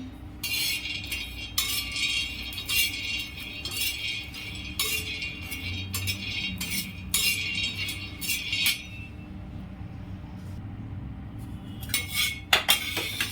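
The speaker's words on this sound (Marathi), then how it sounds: "आता थोडे दाणे ते पण भाजून घेते।" Peanuts roast in a pan for green chilli thecha, rattling and clinking against the metal in repeated bursts of tossing and scraping, close by, with a quieter pause near the end.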